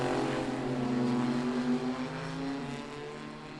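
Vintage drag race car powered by a 175 cubic inch four-cylinder engine from a Chevy II, droning loudly and steadily at close range with a slight pitch shift as it passes.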